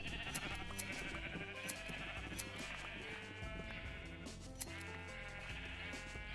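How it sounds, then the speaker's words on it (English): Several Minecraft sheep bleat over and over, close and continuous, their cries overlapping in a dense layer of game sound with no voices. "Except these sheep, they're everywhere."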